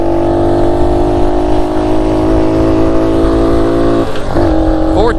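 A 1969 Honda Trail CT90 motorcycle engine drones loud and steady up close, its pitch holding then dropping at a gear change and climbing again as it accelerates, with a rider's voice faintly over it.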